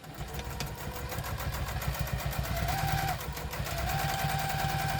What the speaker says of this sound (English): Now we're going to top stitch onto this bit.